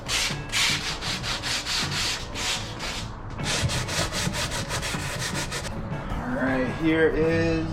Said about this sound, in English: So I'm gonna sand